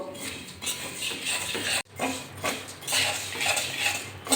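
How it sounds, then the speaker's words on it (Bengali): A spoon scrapes and clinks around a pan as flattened rice (chira) fries with black cumin, chopped green chilli and chanachur over medium heat: a busy, continuous run of close metallic scraping strokes with one brief pause. "নাড়াচাড়া করে আমি ভালো করে ভেজে নেব"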